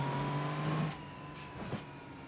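A fully loaded semi truck's engine drones and hums steadily in BeamNG.drive multiplayer, its pitch sagging partway through as it struggles under the load, with no talk over it.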